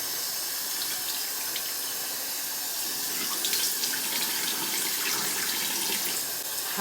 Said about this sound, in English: cold water now to wash off that toner